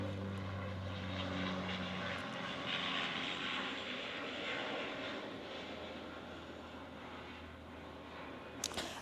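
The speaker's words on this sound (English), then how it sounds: "Hold for plane." Propeller airplane passing overhead outdoors in Melbourne, a steady broad engine drone that swells and lingers for the whole stretch, loud and continuous with no talk over it.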